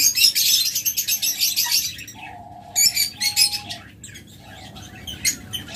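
Opaline lovebirds chirping in rapid bursts of high tweets, with a few thin whistled tones between, close and fairly loud with no talking.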